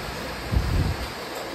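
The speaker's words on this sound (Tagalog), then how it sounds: "Sobrang lakas ng hangin dito." Strong wind roars into the microphone, a broad constant rush with a heavier low buffeting gust swelling in the middle.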